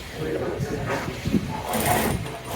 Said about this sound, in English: So I will sew exactly to this point that I sewed in the front part.